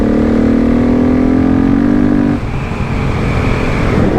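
A KTM 690 dual sport motorcycle is ridden on forest trails, its single-cylinder engine droning steadily close to the mic and then shifting pitch as the rider changes gear, with no talking over it.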